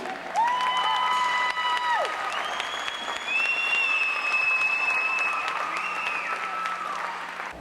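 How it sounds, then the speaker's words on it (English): Applause from the crowd at a high school indoor guard and percussion event greets a middle school guard team, broad and sustained, with a bright high tone sustained and shifting pitch over it. "Ladies and gentlemen, round of applause for Lady Knight."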